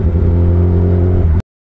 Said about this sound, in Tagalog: Sa mga bike enthusiasts, music to the ears ang tunog ng exhaust eh.